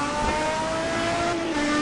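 Race car engine at the ETC Black Cup at Donington Park, a steady loud high-pitched drone with a slowly shifting tone as the car runs on track, no talk over it.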